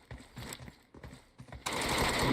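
Automatic gunfire in PUBG Mobile comes in short, rapid bursts, a few separated rattling volleys, then a louder sustained burst close by.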